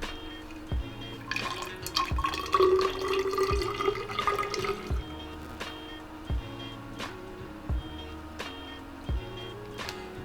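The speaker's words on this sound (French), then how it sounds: "Nous avons à rajouter 100 ml d'eau." Water being poured onto ferric ammonium citrate while mixing a cyanotype solution, a short rising liquid pour in the middle, set among a run of regular sharp drip-like knocks, close and moderately loud.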